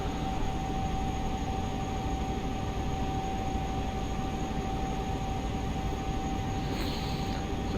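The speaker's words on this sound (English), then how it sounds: "You can really hear the whine of the turbos." Class 43 HST with Valenta engines in Train Simulator, heard from inside as a steady, loud engine drone with a constant high turbocharger whine running throughout, no talk.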